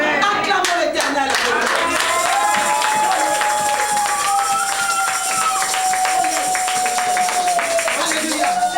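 A church congregation claps and acclaims together, continuous loud rhythmic clapping mixed with voices calling out and a sustained tone running through, close and dense.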